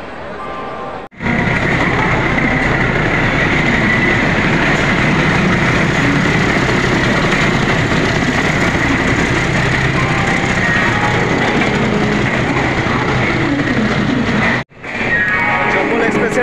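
The 12177 Chambal Express runs out of Howrah with a loud, steady, roaring rumble that fills the clip. Someone appears to talk over the noise, and two brief dropouts interrupt the sound.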